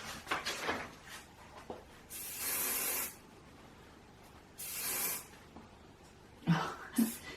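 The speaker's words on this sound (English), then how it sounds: "We'll just give that a bit of a spray in the front." Hairspray hisses onto hair in two sustained bursts of about a second each, close by, with soft handling noises and quiet movement around them.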